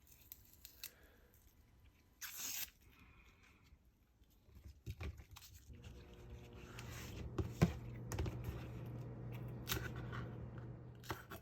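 A knife chops and trims scallions on a cutting board in a kitchen, with scattered crisp cuts early on and then a denser run of quiet, close blade taps and scrapes over a faint background hum.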